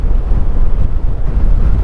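Steady, heavy wind rushing and buffeting close against the microphone on a road trip in Buhi, Camarines Sur, a low continuous roar with no voices.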